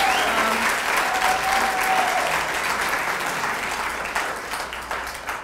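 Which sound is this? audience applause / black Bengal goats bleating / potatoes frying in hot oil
audience applause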